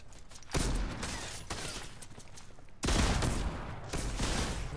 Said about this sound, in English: he's shooting at me from somewhere